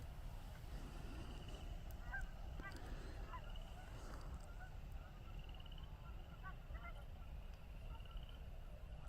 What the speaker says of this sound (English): Mating geese.